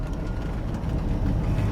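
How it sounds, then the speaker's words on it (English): A 1984 Chevrolet Silverado work truck idles with a steady low rumble, its driver's-side exhaust manifold leak adding a faint, irregular ticking over the engine drone. "Little exhaust leak, you can hear it ticking away."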